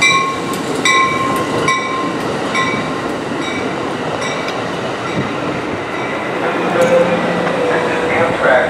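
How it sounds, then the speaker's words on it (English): A passenger train runs along track three at Fullerton station, its wheels clicking rhythmically over rail joints with a steady rumble and bright squealing tones, while people talk nearby. "Train 777 on track three."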